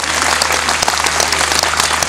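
A crowd at a political rally bursts into loud, continuous applause that fills the space evenly, with no clear speech.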